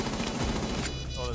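Rapid automatic gunfire in a multiplayer shooter video game rattles in quick bursts at moderate level, mixed with game noise, while a player talks over it.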